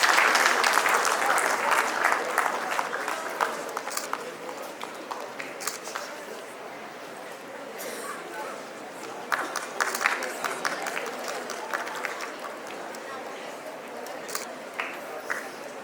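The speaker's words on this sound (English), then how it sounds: "Let's give the winner a huge round of applause." Audience applause at a school debate and excellence awards ceremony, loud clapping at first that thins, then swells again in scattered bursts, with speech mixed in.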